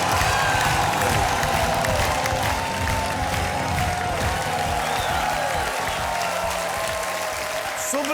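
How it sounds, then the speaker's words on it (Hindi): A television game show studio audience applauds and cheers for a departing contestant, a thick, continuous wash of clapping that stays loud and even throughout, with a voice faintly underneath. "कर साहब के लिए तालियां"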